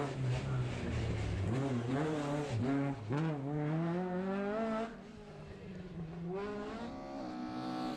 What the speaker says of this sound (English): here is the Ford Escort of Peter Maria Reina, pressing on with that pressure from the Porsche duo